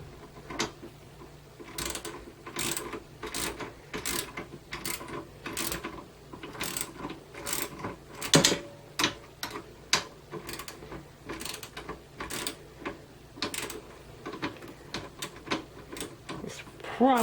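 A ratchet wrench tightens a nut on a bolt of an American push reel mower, giving bursts of quick, crisp clicks at close range, stopping and restarting in short runs, with a voice talking at times.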